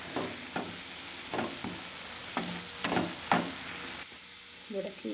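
Ground cumin paste is stirred into keera thoran frying in a pan, giving intermittent scraping strokes and sizzling bursts at an uneven rhythm, close and moderately loud, with no clear speech.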